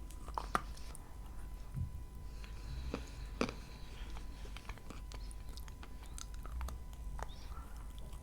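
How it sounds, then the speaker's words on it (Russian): Close, quiet crunching as a piece of edible chalk is bitten and chewed, scattered crisp cracks over soft mouth noise, faint and near. "Откусила, и она развалилась."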